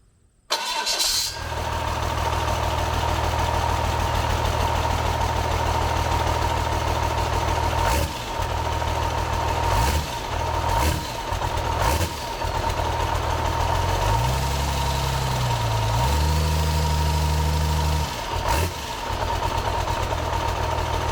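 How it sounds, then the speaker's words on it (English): A Cummins diesel engine swapped into an RV cranks briefly and fires, then settles into a steady, loud idle with a low rumble that lasts through the rest of the clip, with a few small shifts in tone along the way. "we're gonna try to test fire this engine"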